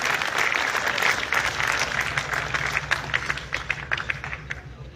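An audience at a school annual day celebration at a government boys' higher secondary school bursts into sustained, dense applause, loud and continuous for several seconds, with a few sharper claps standing out as it thins slightly toward the end.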